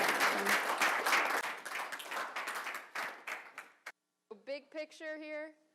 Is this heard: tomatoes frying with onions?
no